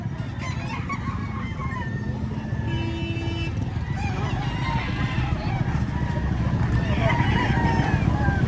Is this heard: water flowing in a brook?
no